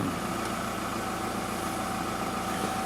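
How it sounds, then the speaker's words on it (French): An Audi engine idles in a garage during an ABS fault diagnosis, with a constant droning rumble and a steady whine, continuous and fairly loud, without any voices. "Alors j'ai coupé le moteur parce que sinon je vais en fumer le garage."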